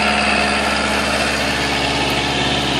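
A water pump driven by a tractor running at 2,000 RPM at a duck impoundment, giving a steady, loud mechanical hum with a constant engine drone and no pauses.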